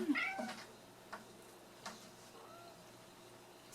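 Cats fight over a cat tree indoors, giving faint scattered meows and a drawn-out yowl with pauses between the cries.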